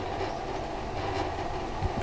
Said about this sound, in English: I move train.